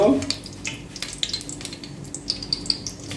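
Mustard seeds hit hot oil and sizzle with a close, crackly hiss, scattered pops and spits over a continuous frying noise, with no talking.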